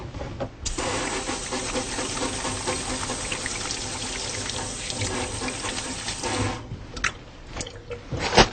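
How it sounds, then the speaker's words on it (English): Hands are washed under a running sink tap: a steady, close rush of water runs for about six seconds, then stops, followed by a few quieter splashes and drips. "So I'm going to first wash my hands."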